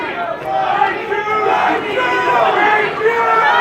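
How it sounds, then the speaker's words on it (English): A crowd shouts and cheers together in a loud, sustained roar of many voices at an anime convention panel. "I hear like one cheer from this side"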